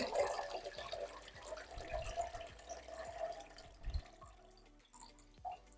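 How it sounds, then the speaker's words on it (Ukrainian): Brine from pickled tomatoes is poured off in a thin, steady trickle for a grandmother's shashlik marinade, running quietly for several seconds before tapering off near the end. "З помідор зараз я зіллю росілку."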